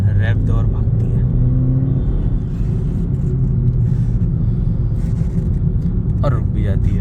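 A car engine revs and pulls away under acceleration, a loud low rumble that swells and holds from inside the vehicle, with people talking over it.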